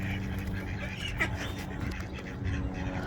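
Ducks quack near pigeons outdoors, a steady cluster of calls close by over general bird noise and background rumble, with no clear talking.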